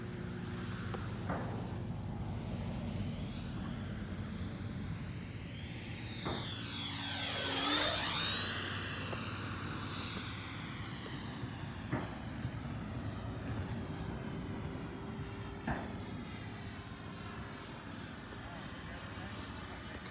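A custom Freewing 90mm F-4 Phantom RC jet with an electric ducted fan whines steadily overhead, swelling to a loud pass with a pitch sweep near the middle before easing off into the distance, with people talking outdoors.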